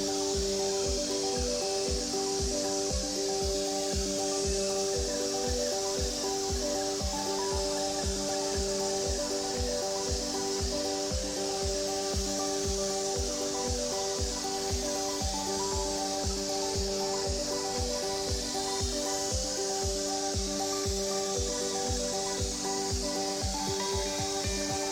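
A Graco airless paint sprayer applies PPG Dryfall to a large industrial warehouse ceiling, giving a constant hiss over a steady droning hum and rapid rhythmic pump pulses throughout.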